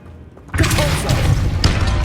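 A Depulso force spell cast in Hogwarts Legacy lands as a sudden loud burst about half a second in, then a dense rumbling, crackling blast that sustains to the end, with a brief whooshing swell near the end.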